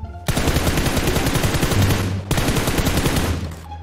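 Rapid automatic gunfire from a shooter in PUBG Mobile, loud and continuous bursts of shots with a brief break midway, with no talk over it.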